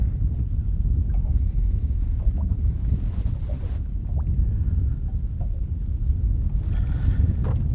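Constant low wind rumble buffets the microphone outdoors while fishing with a small jig, with faint splashing and knocking sounds over it.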